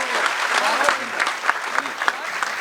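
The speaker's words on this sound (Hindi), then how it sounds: "एक बार ताली मेरे लिए भी बजा दे आप" An audience at a Hindi poetry gathering (kavi sammelan) claps steadily and densely, with sharp individual claps standing out from the crowd and a voice heard over the applause.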